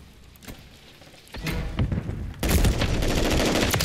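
Gunshots from a Call of Duty: Modern Warfare III match, a few sharp reports followed by a dense, continuous volley of loud close gunfire and heavy thuds filling the second half.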